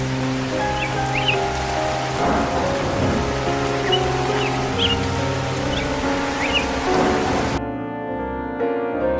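Steady heavy rain pours in a cartoon with low rumbles of thunder and faint bird chirps, with a sustained musical background that drops out near the end.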